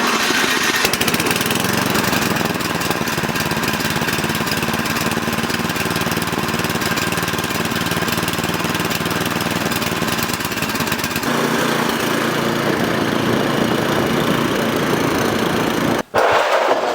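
A push-button start lawn mower runs steadily and loudly at close range, its engine drone continuous for the whole stretch, with a brief cut-off near the end before the sound resumes.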